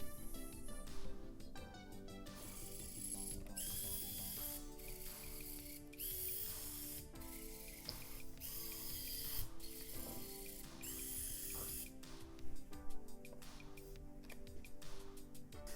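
Ratcheting, clicking motor mechanism of a simple Arduino-controlled drawing robot running as it draws shapes, a steady busy mechanical chatter with a tonal whine and repeated gear-like clicks throughout, no voices.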